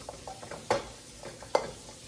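A utensil mashing and stirring lasagna ingredients in a pan, with soft scraping and squishing punctuated by two sharp clanks against the pan, close and moderately loud.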